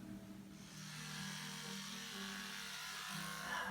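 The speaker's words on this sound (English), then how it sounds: "Time to shave." An electric shaver buzzes steadily during a shave, a close, continuous motor hum with a faint rasp that stays even at low volume for the whole clip.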